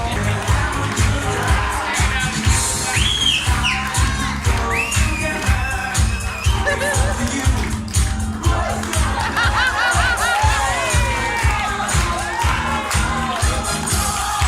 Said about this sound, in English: can I please have a big cheer for Isaac and Judith?